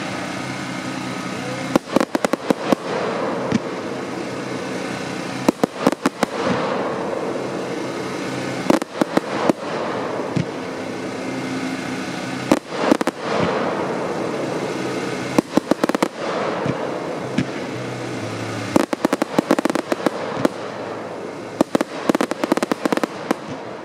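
A 100-shot gold fan, gold silk rail firework cake at an evening demo, firing rapid bursts of sharp cracking reports in irregular clusters, with crackling tails between the shots and a murmuring crowd.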